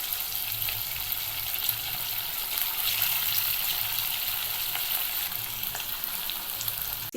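Chicken 65 pieces dropped one by one into hot oil, frying with a steady, dense sizzle and crackle that holds evenly throughout, close and fairly loud.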